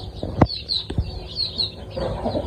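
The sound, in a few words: desi chickens clucking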